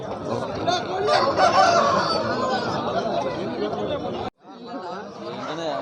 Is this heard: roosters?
yes